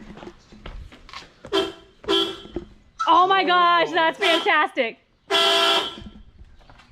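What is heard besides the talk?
car horn honking on LS-swapped Jeep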